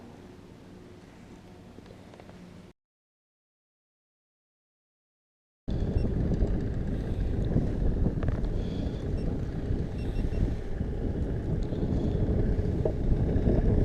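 Wind blowing across open water while kayak fishing for bass, buffeting the microphone in a loud continuous roar with low rumble, broken by a few seconds of silence before resuming stronger.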